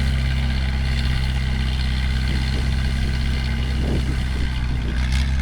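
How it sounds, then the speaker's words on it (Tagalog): A military service vehicle's engine running at a steady, loud drone with a low rumbling hum throughout, heard close up with faint voices underneath. "Tingnan natin yung lakas ng makina na yan."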